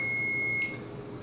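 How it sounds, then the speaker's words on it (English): A hotel-room alarm gives a steady high-pitched electronic beep that holds for about half a second and then cuts off abruptly, leaving a quiet room hum. "Can you make it stop beeping, please?"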